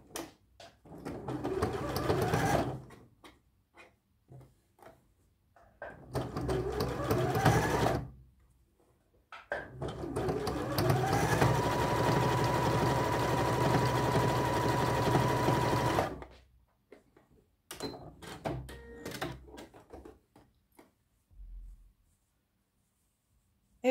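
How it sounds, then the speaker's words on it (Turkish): An industrial sewing machine stitches the pocket bag of a child's tracksuit bottom, running in several whirring bursts of a few seconds each, one long steady run in the middle, with short pauses and faint handling noises between. "Bunu açıp cep torbamızı buradan dikiyoruz."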